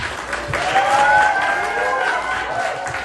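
Applause and some cheering from wedding guests greeting newlyweds Timothy Joseph and Lara Pajardo fill the room, a dense crowd of clapping with tonal music or voices layered over it, holding steady throughout.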